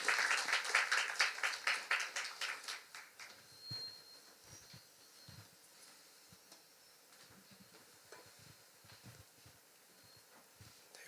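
A church congregation at a Wednesday campus worship service applauds in welcome of a pastor, loud, dense clapping for about three seconds that quickly fades into quiet room rustle and faint movement.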